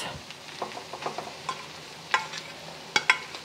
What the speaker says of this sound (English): I am adding about 4 to 5 cups of leftover rice.